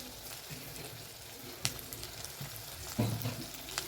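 Shallots and turmeric sautéing in oil, a faint steady sizzle with a few soft stirring scrapes and knocks, one sharper clack near the end, quiet and without talk.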